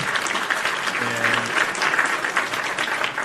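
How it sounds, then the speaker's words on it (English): Applause closes a wrestling live show, a fairly soft, continuous patter of many hands clapping, with a brief faint tonal hum underneath partway through. "Round of applause for me and the PWT universe."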